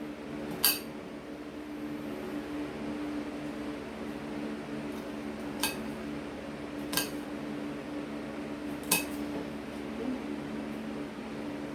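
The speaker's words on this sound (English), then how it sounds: "these onions are so little, that's why I'm cutting up more" A knife chopping small onions on a board for homemade ketchup, a few sparse sharp taps over a steady humming kitchen background.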